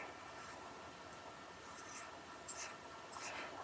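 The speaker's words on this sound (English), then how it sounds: "we're going to trim up those corners with the" Proper sewing scissors trim the corners of a fabric travel organizer, giving faint, quiet snips and rubbing, with a few crisper cuts near the end and no talking.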